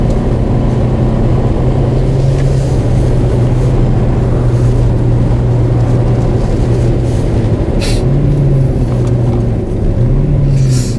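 Cabin sound of a Hyundai Kona N Line with its 1.6 turbo engine while driving: a loud steady engine drone and road rumble with slight rises in pitch, continuous throughout and no talk.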